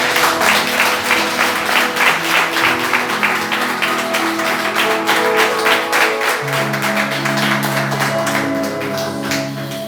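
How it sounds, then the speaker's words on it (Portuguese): A church congregation claps in a steady rhythm during a family worship service, loud and continuous over sustained background music. "Aplauda o Senhor nessa noite."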